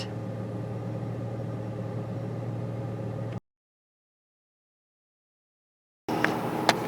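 Car passing fast on a busy rural road near a prairie memorial site, a steady broadband engine and tire roar that cuts off into silence, then resumes with brief higher clicks.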